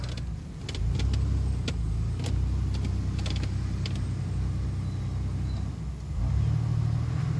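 A pickup truck drives off-road up a steep slope with a steady low engine drone and rumble. Occasional creaks and knocks from the cab come through, and the engine note swells briefly near the end.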